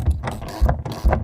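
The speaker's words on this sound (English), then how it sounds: "we're going to go ahead and take a 1/2 inch socket and tighten all 4 of our nuts down" A ratchet with a 1/2 inch socket tightens nuts while fitting an Extang Xceed tonneau cover on a 2019 Ram 1500, giving three quick close metallic clicking strokes in an even rhythm.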